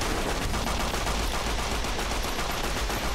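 Turret gunfire in Fallout: New Vegas, a dense, sustained rattle of rapid shots with no pauses, loud and continuous across the whole stretch.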